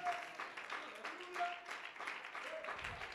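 A church congregation claps hands together during a family worship service, a dense, steady patter of many hands with voices calling out over it throughout.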